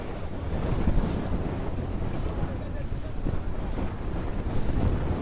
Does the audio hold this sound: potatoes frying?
no